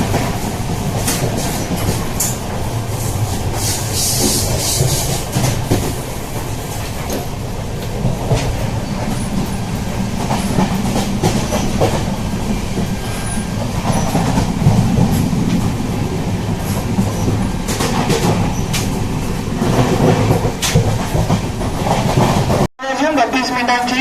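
A Mumbai–Kalyan local train rumbles and rattles steadily along the rails, close and continuous, with a faint murmur of voices mixed into the noise.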